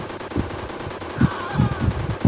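Rapid bursts of automatic gunfire from the video game Indian Bike Driving 3D, several short volleys in quick succession, loud and close.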